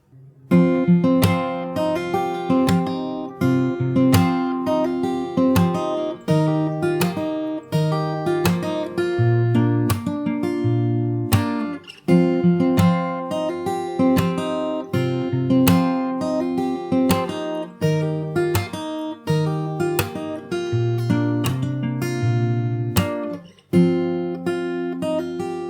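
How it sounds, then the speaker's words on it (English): A fingerstyle acoustic guitar plays an outro, with plucked bass notes and melody in a steady pulse, close and clear, alone with no talking. "and after that we have the outro, which sounds like this."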